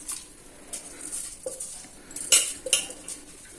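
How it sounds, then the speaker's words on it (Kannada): Washed rice tipped into a metal cooking pot for bisi bele bath, giving a few sharp clinks and scraping clatters against the pot, close and moderately loud, with no talking. "ಈಗ ಇದಕ್ಕೆ ನಾನು ತೊಳ್ಕೊಂಬಂದಿರೋಂಥ ಅಕ್ಕಿನ ಸೇರಿಸ್ಕೊತಿದ್ದೀನಿ"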